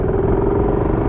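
A warmed-up Husqvarna Vitpilen 701 single-cylinder motorcycle engine runs with a steady, close, rough throb, heard alone and briefly.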